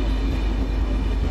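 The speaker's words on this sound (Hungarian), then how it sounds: "Budapest déli pályaudvartól Komáromig közlekedő személyvonat érkezik a hatodik vágányra" A passenger train running from Budapest Déli station to Komárom pulls in at a station platform. Its steady, loud rumble fills the whole clip, with no voices over it.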